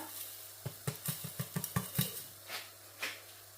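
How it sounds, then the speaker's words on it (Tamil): Roasted coconut, sugar and semolina for rava laddu are tipped into a pan, giving a quick run of close, soft clinks and scrapes, then a few spaced taps of a spoon against the pan. "இப்போ நாங்கள் வறுத்தெடுத்து வச்சிருக்கிற தேங்காய்ப்பு சீனியோட சேர்ந்த ரவை எல்லாத்தையும் இதில் போட்டுக்கொள்ளுவோம்"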